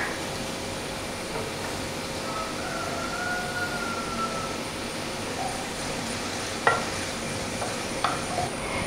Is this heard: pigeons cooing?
no